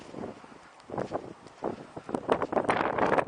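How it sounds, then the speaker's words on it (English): Gusty wind buffeting the microphone outdoors, rumbling and roaring unevenly and growing stronger toward the end. "Very windy here today"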